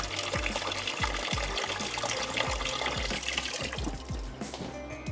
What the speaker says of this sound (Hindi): थोड़ी सी देर के लिए इसको पानी में डिप कर देते हैं